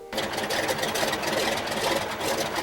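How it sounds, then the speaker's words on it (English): The piston engine of a de Havilland Beaver floatplane, its mixture leaned for altitude, runs steadily and loudly up close with a dense, even rumble and no pauses. "we can set the mixture where the engine's running smoother without wasting it or fouling the plugs"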